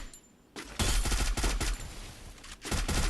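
Rapid bursts of automatic gunfire in the battle royale video game Free Fire, two long volleys of close, loud shots separated by a brief pause, with a short quiet stretch at the start.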